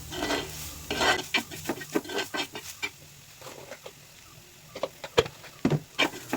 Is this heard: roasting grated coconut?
yes